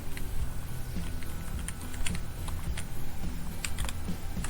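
Someone types on a computer keyboard at close range, with irregular clusters of sharp key clicks over a low background hum.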